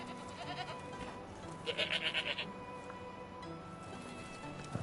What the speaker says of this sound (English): Okay, yeah, those are goats.